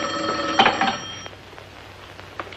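An old telephone bell rings loudly and close in a 1950s sitcom, one ringing burst that cuts off and fades into quiet room noise.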